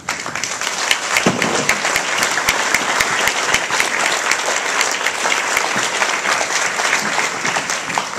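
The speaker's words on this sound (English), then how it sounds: "Let's give them a round of applause." An audience at a community literacy recognition night gives a sustained round of applause, dense steady clapping filling the room from start to finish with no talk over it.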